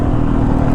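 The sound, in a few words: Yamaha YZ450FX dirt bike engine riding on track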